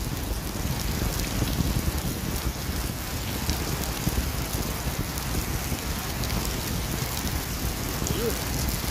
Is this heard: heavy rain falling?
yes